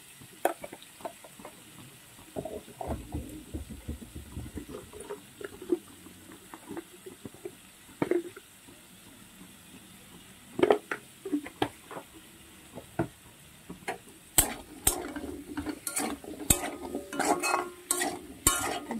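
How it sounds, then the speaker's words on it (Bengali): Potatoes frying with salt and turmeric in a pan, a soft sizzle under repeated scraping and stirring strokes, growing busier and more clattery toward the end. "একটু লবণ আর একটু হলুদ দিয়ে আলুগুলোকে ভালো করে ভেজে নেব।"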